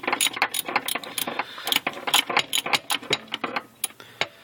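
A hand ratchet wrench turns a 10mm bolt on the fuel filter mount of a 1990 Acura Integra. It gives a close, rapid run of crisp clicking in short strokes.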